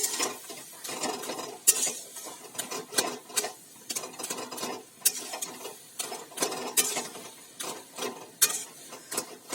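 Bottle gourd ghonto curry being stirred in a pan, with a spoon scraping and clinking against the metal in irregular bursts, close and moderately loud, no voices.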